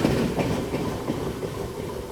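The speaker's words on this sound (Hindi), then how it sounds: "गोविंदपुरी पे अपने को ओवरटेक करके आगे निकली है हावड़ा राजधानी एक्सप्रेस" Howrah Rajdhani Express passing close by at Govindpuri while overtaking, a steady loud rumble of rail wagons with faint rhythmic wheel clatter throughout.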